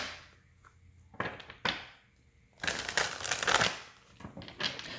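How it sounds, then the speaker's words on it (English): Tarot cards shuffled by hand in a few bursts of papery riffling and crinkling, with short slaps of the deck between them and a longer, louder spell of rustling in the middle, close up and without talk. "Let's see if I would like a good shuffle if I can get one."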